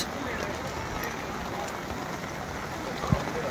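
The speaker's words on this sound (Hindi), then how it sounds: "अभी बारिश चालू है, बारिश रुकेगा" Steady rain falls on Baga Beach in Goa, a dense even hiss of drops with a low crowd murmur beneath and a single brief thump near the end.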